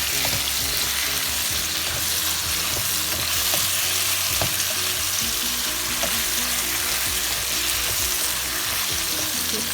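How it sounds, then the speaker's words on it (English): Eggplant pieces, with tomatoes alongside, fry in a pan while being stirred, a steady close sizzle broken by scraping stirs and small clatters throughout, with no talking. "Keep stirring until you get all the eggplants nice and brown."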